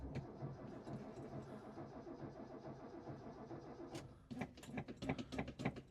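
A car engine cranks repeatedly at a steady fast rhythm. The starter churns for about four seconds, then the engine sputters unevenly and tries to catch. The sound is close but fairly quiet, with no voices.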